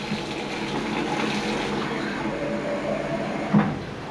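Hot water runs from a kitchen tap into a jar with a steady, close hiss and splash, ending in a brief knock near the end of the stream.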